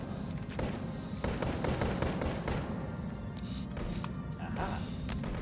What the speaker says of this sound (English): the sound of gunfire never stops around here